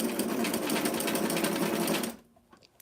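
A sewing machine stitches a curved princess seam on a vintage 90s dress, running in a steady close whirring burst for about two seconds before stopping abruptly into near quiet.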